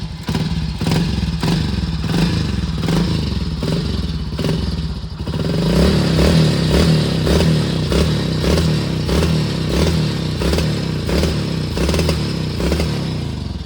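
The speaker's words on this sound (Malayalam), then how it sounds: "OG Splendor exhaust not." A 2001 Hero Honda Splendor motorcycle idles close by, its exhaust note a steady low thumping beat that grows slightly louder and fuller partway through, with no talk over it.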